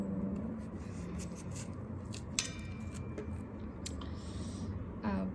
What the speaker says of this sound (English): It's just the apple now remaining, and I don't really mind the apple peel, so we'll just cut it with the peel.